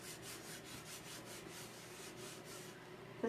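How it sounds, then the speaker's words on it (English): Chalk paste rubbed across a silk screen stencil in a steady, continuous scrubbing rhythm with soft repeated strokes, close and fairly quiet, no voices. "I'm just rubbing through here the silk screen"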